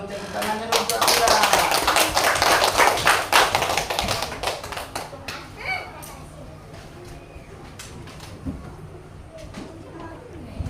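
A class of schoolchildren claps hands in a rhythmic Pancasila clapping pattern, loud and close for about four seconds, then fading into scattered taps and voices talking.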